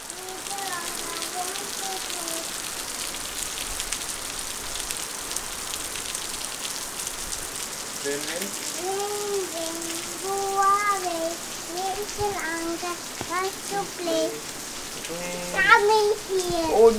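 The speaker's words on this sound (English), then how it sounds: "Tell the rain to go, Annika." Steady rain falling during the Kerala monsoon, a constant dense hiss of drops on surfaces throughout, with an adult and someone talking over it.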